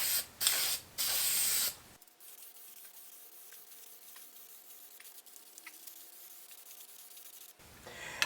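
Spray paint hisses in a few short, loud bursts as a coat goes onto motorcycle intakes, followed by several seconds of near silence.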